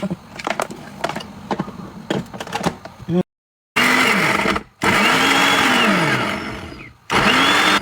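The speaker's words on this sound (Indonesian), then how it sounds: "kita chopper nih, kita haluskan" An electric food chopper grinds garlic and chili in short bursts, whirring loudly up close with brief silent pauses between runs, after some knocking and clattering; people talk in the background.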